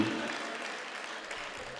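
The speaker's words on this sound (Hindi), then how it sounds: "भाई जोरदार तालियां होनी चाहिए पूरे मजमे की" A crowd at an All India Mushaira poetry gathering in Amravati, Maharashtra applauds in a steady, dense wash of clapping that holds at an even level for a couple of seconds.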